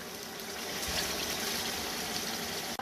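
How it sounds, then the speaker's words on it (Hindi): Water from a 1-litre jug pours into a pot of chicken pulao with rice and fried masala, a steady close rushing splash that continues without pause for a few seconds. "इसमें मैं पानी डाल लगी हूँ। ये 1 लीटर का जग है तो ये 1 लीटर इसमें पानी चला गया।"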